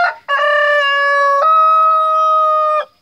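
Rooster crowing from one of three wild chickens in a farmyard, a single loud, close, drawn-out cock-a-doodle-doo lasting a few seconds, with no talk.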